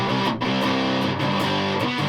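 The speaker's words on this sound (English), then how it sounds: "This is a little bit more sort of fuzzy in the background kind of distortion." A Tokai Firebird electric guitar played through a Rat distortion pedal, giving a thick, fuzzy, sustained distorted tone with chords changing every half second or so, loud and steady throughout with no talking.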